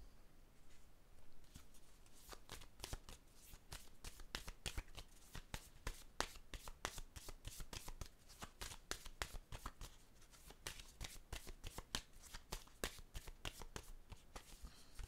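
Tarot cards being shuffled and drawn, a steady run of crisp riffling flicks and slaps repeating close and fairly quiet for the whole stretch, with no talking.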